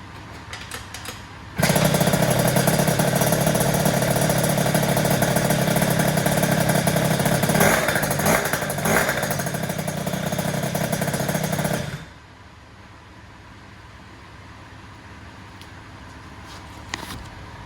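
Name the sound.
Aerox RC ONE engine test fired, first start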